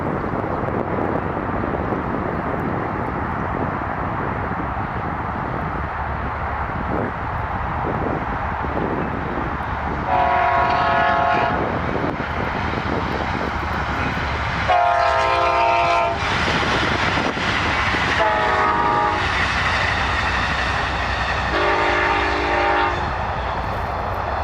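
A westbound Amtrak train passes near Sacramento, its rumble rising as it draws near, with several long blasts of the air horn sounding in sequence over the steady rolling roar of the cars.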